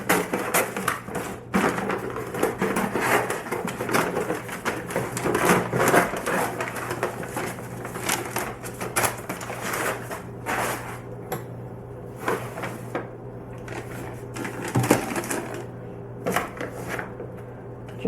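A plastic food bag is cut down with scissors, making close crinkling, rustling and snipping sounds in irregular bursts, handled up close with occasional thumps and little else around.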